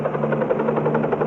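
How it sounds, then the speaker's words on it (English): A helicopter flown low to herd elk through a national park, its rotor thumping in a steady, continuous drone with a strong low hum, loud and close throughout with no voices. "Modern-day cowboys and helicopters, Scott and his pilots use the sound of their machines to drive the elk."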